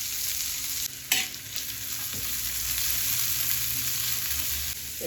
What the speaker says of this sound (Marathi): दोन्ही याच्यात जिरं टाकून घेतीये